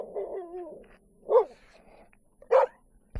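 A dog gives a few scattered barks and low whining yelps outdoors, with two sharper, louder barks spaced about a second apart, heard at moderate distance without talking.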